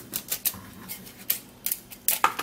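Scissors snip repeatedly through material in quick, crisp strokes, close and clear, with short pauses between the bursts of cutting.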